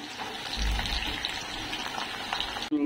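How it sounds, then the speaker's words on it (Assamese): Onion frying in hot oil in a home kitchen, a steady close sizzle and crackle that runs unbroken from start to finish, with a brief dip just before the end. "আগতে আমি পিয়াজখন ফ্ৰাই কৰি লম"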